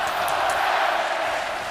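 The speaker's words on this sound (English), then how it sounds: "Look at this crowd. They're on fire here at the Joe." Hockey crowd at Joe Louis Arena during a 2010 playoff quarterfinal game between the Coyotes and Red Wings, a loud sustained roar of cheering and yelling filling the building.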